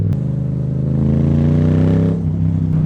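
A Yamaha MT-07 motorcycle with a Roadsitalia titanium exhaust revs loudly and steadily up close, its deep throbbing engine note holding for nearly three seconds before dipping slightly.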